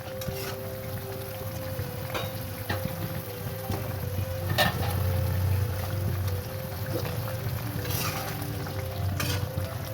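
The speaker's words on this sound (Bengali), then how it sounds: "ঝোলটা ফুটে গেছে, এবার আমি মাছটা দিয়ে দেবো।" Rohu fish goes into a boiling green chilli curry, steady bubbling and sizzling with stirring and a few sharp clinks of utensil on pan, close and continuous, no talk.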